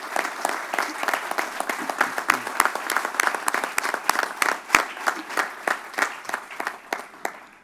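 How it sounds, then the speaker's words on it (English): Applause from an audience at a storm briefing at the Long Island Welcome Center, a dense steady clatter of many hands that runs throughout with a few sharper individual claps. "So let's give them a round of applause."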